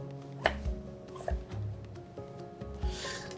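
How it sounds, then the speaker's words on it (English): A knife cutting radish into smaller pieces on a board, four or five separate dull knocks spaced unevenly, close and quiet, with no speech. "we're just gonna cut it into smaller pieces like that."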